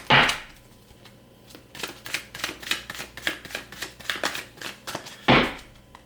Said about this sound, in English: That's that raw shuffle for you